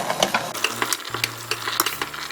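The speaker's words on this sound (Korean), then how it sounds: "포도에서 이렇게 수분이 나와서 빠글빠글 끓으면 냄비 뚜껑을 닫고 중불에서 끓여줍니다." Grape jam boils hard in a pot, giving a close, continuous crackle of popping bubbles with no voices.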